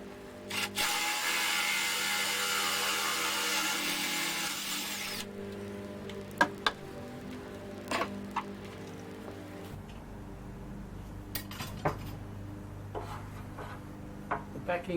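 A power tool cuts through timber with a backing piece clamped behind to stop chipping, a loud steady whine for about five seconds, then quieter rubbing, scraping and scattered knocks of wood handling.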